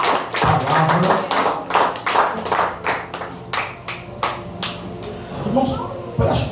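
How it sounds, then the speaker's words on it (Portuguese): A church congregation applauds, sharp irregular hand claps close and loud at first and thinning out as a preacher's voice speaks over them. "se você puder aplaudir a Jesus pela sua palavra."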